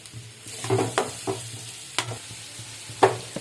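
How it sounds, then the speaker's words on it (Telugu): Onions and green chillies fry in hot oil in a pot, a low sizzle broken by several sharp scraping stirs at uneven intervals, close up with no voices. "ఇది ఆయిల్ వేడెక్కాక ఇందులో ఆనియన్స్ పచ్చిమిరపకాయలు వేసేయడమేనండి"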